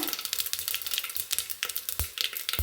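Mustard seeds and cumin fry in hot oil for a spiced rice dish, giving a dense crackling sizzle with rapid pops and a few sharper spits, close and continuous.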